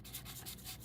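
An emery board rubs over two-tone card paper with a white core, giving a short, steady scratchy sanding sound that swells and eases in quick strokes, close and fairly soft with no talking.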